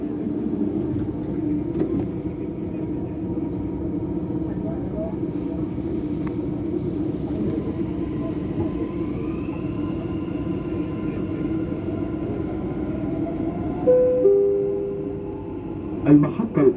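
A Dubai Metro train runs along Sheikh Zayed Road with a steady interior rumble and a rising electric motor whine, and a brief electronic chime sounds near the end.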